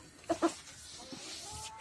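Two short, close clucks from a broody hen, fed apart from the other chickens, followed by quieter rustling and faint farmyard murmurs.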